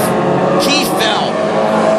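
WISSOTA modified race cars drone around a dirt speedway, a continuous rough engine roar with a brief higher whine as cars pass, while someone talks over the top.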